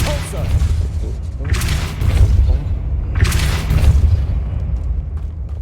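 Depulso force spell cast in the Hogwarts Legacy video game, heavy rumbling booms and blasts swelling twice over a dense, continuous low background.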